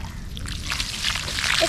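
Water pours and splashes over a broken toy garbage truck as it is rinsed, a close, continuous wet spattering with faint trickles.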